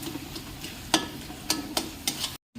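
Spice masala stirred with goat meat in a pan, with a low sizzle under a handful of crisp spatula scrapes and clinks at uneven intervals, close by, cutting off abruptly into silence near the end.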